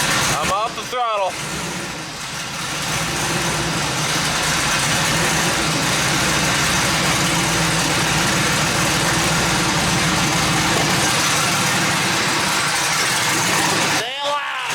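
Twin turbo Ford Mustang engine running, a steady loud drone held throughout with a low rumble, and short voice bursts at the start and end.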